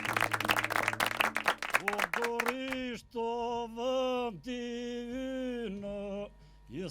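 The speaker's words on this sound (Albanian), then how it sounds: "kjo duartrokitje e madhe ju shkon atyre" Applause for the Albanian folk group Vatra Gorishote at a village gathering in Mërtiraj, Gorrisht: dense, loud clapping for about two seconds, fading as the group's singing and music take over.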